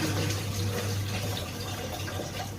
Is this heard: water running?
yes